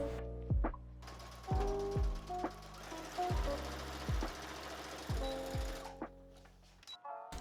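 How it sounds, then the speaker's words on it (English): A sewing machine stitches straight across a folded edge on a wedding dress bodice, running in short bursts of rapid mechanical whirring with regular thumping strokes, loud and close, stopping near the end. "We're just going to fold that over and stitch it right across."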